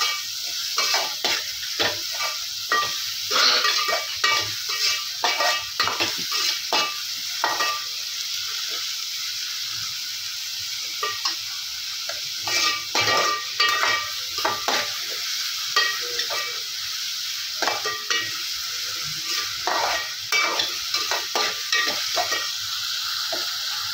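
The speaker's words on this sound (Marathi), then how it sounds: "हा कांदा आपण गोल्डन ब्राऊन होईपर्यंत असं परतून घ्यायचा आहे." Finely chopped onion frying in a pan for egg masala curry, stirred continuously: constant hissing sizzle under rapid, rhythmic bursts of spatula scraping and clatter, close and loud, with a short lull midway.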